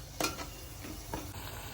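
A vegetable tempering for veg biryani sizzles in a pot as small splashes of water are added, giving soft steady frying hiss with a few brief louder spits, faint overall and without talk.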